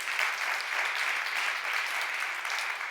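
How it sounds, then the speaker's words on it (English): Applause from a conference audience at a high-level hydrogen policy event, a steady dense wash of clapping sustained evenly from start to finish with no voices over it. "I would like to have your applause for this team."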